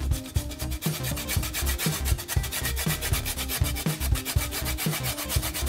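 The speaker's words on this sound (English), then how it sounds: "Now we take our little grater and just get some of that lime zest off of there." A small grater zests a lime in rapid, regular strokes, a close rhythmic rasp repeating steadily throughout.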